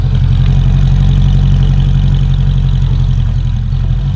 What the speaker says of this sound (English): the car is misfiring and it sounds funny.